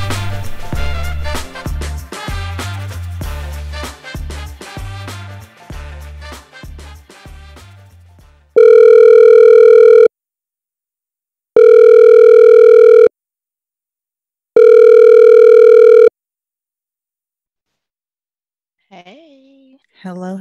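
A telephone line plays three long, loud, evenly spaced tones after a burst of busy music, with silence between each beep, then a faint voice at the very end.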